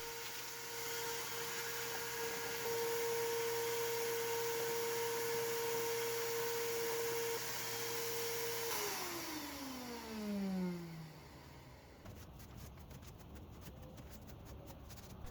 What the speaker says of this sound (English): I pulled out the vacuum to clean up my mess